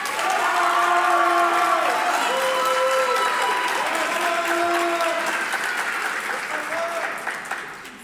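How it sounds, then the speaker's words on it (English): A large crowd at a police academy graduation ceremony cheers and applauds loudly and steadily. Whoops and shouting voices ride over the continuous clapping, which fades slightly near the end. "feel free to cheer as loud as you can"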